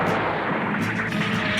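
Anime gunfire from a Mobile Suit Gundam film booms in a dense, heavy rumble of artillery-like blasts packed close together, loud and continuous over the brief moment.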